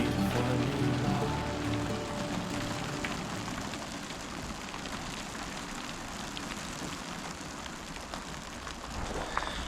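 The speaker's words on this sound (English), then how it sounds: "I am dodging raindrops today. There is sporadic showers coming through" Sporadic rain showers fall steadily outdoors, a continuous broadband patter holding at an even, moderate level throughout without any voices.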